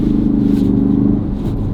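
A Ford Focus RS engine at full throttle in deep snow gives a deep, steady, close rumbling drone that holds at a constant level and then eases slightly near the end.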